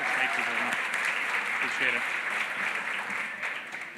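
An audience at a closing reception and dinner breaks into warm applause, a dense wash of clapping filling the room for several seconds, with voices and cheers mixed in before it begins to thin out.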